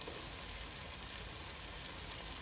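Spring onion sizzling in hot oil in a curry pan for a chicken and mushroom curry, a steady, even frying hiss that runs unbroken and fairly quiet throughout.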